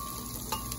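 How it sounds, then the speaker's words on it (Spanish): Onion sautéing in a pan for Polish-style beef, a steady soft sizzle and crackle with a couple of brief stirring scrapes, close and alone. "vamos a dejar así 3 minutitos más para que la cebolla se acitrone"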